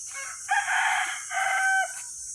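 A village rooster crows loudly in two long strained bursts, close by, with a brief clucking call from native country chickens before it and quiet surroundings.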